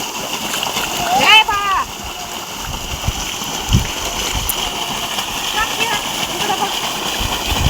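A dog splashes and plays in irrigation water in a farm field, making constant nearby sloshing and spattering, with a brief voice or whistle-like call near the start.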